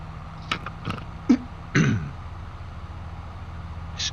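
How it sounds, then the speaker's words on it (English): A man coughs close to the microphone while playing a farming game, two or three short, harsh throaty bursts over a low, steady machine hum with quiet gaps between them. "Hope I didn't blow any eardrums out with that cough."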